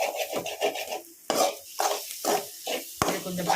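Masala being stirred and sautéed in oil in a pan, heard as rhythmic, close scraping strokes over a light sizzle, with one sharp metallic knock near the end.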